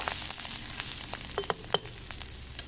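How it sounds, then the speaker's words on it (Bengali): Ginger paste fries quietly in a village kitchen pan, a soft continuous sizzle dotted with light clicks and scrapes of a stirring spoon. "আদা বাটা। ভালো করে ভেজে নেব।"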